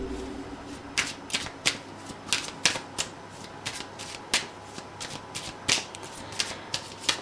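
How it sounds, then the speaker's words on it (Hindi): Tarot cards shuffled by hand during a love reading, a steady series of sharp close flicks and taps spaced about half a second apart over a faint low hum, no voices. "और भी कार्ड्स देख लेते हैं।"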